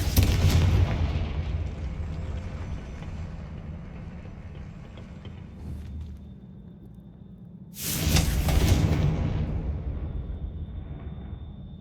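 Confringo fire-blast spell cast in the Hogwarts Legacy game: a loud explosive burst opens the clip and a second sharp blast lands near the middle, each decaying into a rumbling tail over game background.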